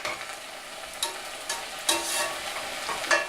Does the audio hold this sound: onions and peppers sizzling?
yes